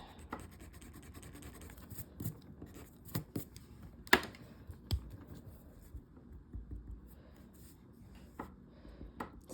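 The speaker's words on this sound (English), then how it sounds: "I do need to erase this line." A pencil line is erased on paper with quick, soft scratchy rubbing strokes, in irregular bursts with brief pauses. The sound is close and faint, with no voices.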